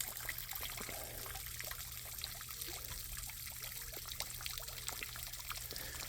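Gentle trickle of a backyard pond waterfall, a soft continuous splashing with faint droplet patters, steady and quiet with no voices, under a low pump hum.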